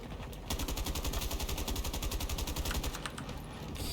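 Rapid automatic gunfire in Battlefield 2042, a long sustained burst of evenly spaced shots that runs for several seconds after a brief pause, sharp and near, with no talking over it.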